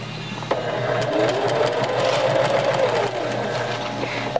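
Sewing machine stitching hidden cased elastic into a cloth pocket diaper, a steady continuous motor hum and needle whir running nearly the whole stretch, close and fairly loud, with no talking.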